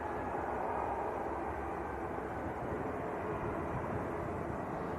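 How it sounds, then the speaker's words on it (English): Ryanair airliner taxiing at Manchester Airport, turning close to the viewing park; a steady, loud broadband jet roar holds evenly throughout without breaks, no voices. "Ryanair just turning in right in front of the viewing park."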